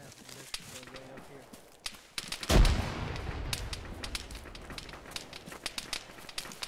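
Gunfire in the jungle trenches of an Arma military game session, with scattered distant shots and one heavy close blast that leaves a rumbling tail, while players talk over the fighting and footsteps shuffle.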